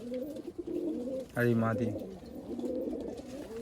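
Punjabi Malwai pigeons coo in a steady low rolling murmur at close range, with one louder burst of cooing in the middle and a brief voice speaking near the start of it.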